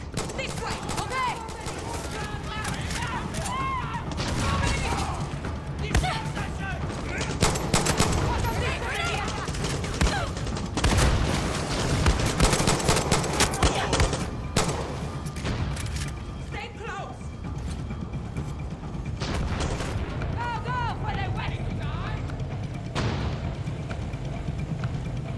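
Chaotic combat in the video game Far Cry 6, with dense overlapping gunfire, bursts and booms running throughout while a player shouts and talks over the action.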